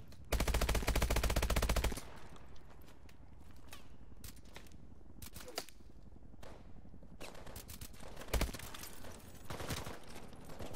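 A loud, rapid burst of automatic fire in Call of Duty: Advanced Warfare opens, followed by scattered single shots and quieter clatter over a low background.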